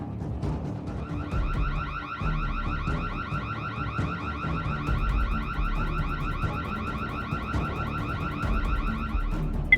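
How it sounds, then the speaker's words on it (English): A security camera's motion-detection alarm at a home compound blares continuously, a loud repeating electronic warble that runs steadily from the first second to the end over low background rumble. "He is looking out the window when the motion detection alarm of the security camera goes off."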